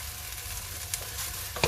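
Rice noodles being stir-fried for pad thai in a hot pan, a steady soft sizzle running throughout with a couple of brief scraping stirs near the end, close and fairly quiet.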